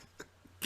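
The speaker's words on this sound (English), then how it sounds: "as you're about to hear the sound, you hear the sounds of his cough" A game character's cough from the horror game Call of Cthulhu – Last Salvation, heard as a few short, quiet bursts, the strongest one coming at the very end.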